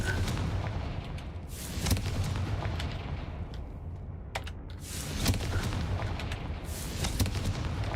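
Confringo fire spell blasts in the Hogwarts Legacy video game, a series of loud booming explosions and crackling impacts over a continuous dense rumble, with no talk.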